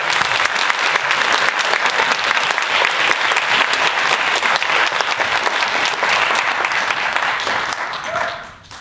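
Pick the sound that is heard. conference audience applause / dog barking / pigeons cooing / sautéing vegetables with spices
conference audience applause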